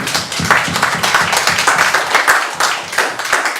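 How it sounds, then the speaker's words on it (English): A think tank launch event audience applauds together, a dense, steady wash of many hands clapping close by for several seconds without a break. "I think you should give yourself a round of applause."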